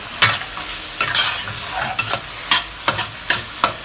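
Chinese pork seasoned with crushed white pepper is stirred in a pan as its liquid cooks down. A loud, steady sizzle is broken by repeated scraping strokes of the utensil, close up, with no talking.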